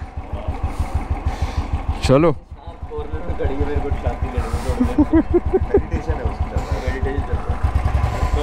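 A well-travelled motorcycle's engine idles with steady, rhythmic low pulsing throughout, close by, under conversation and a brief vocal exclamation.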